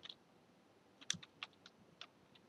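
Scattered, faint keystrokes on a computer keyboard while typing commands in a Git Bash terminal, a handful of light clicks spread irregularly across a quiet background.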